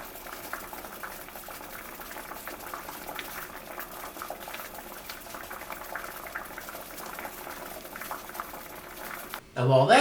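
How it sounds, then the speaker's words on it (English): Water boils in a covered pot on a stovetop, a continuous soft bubbling rumble holding steady before a louder burst right at the end. "As you can see now, it's boiling."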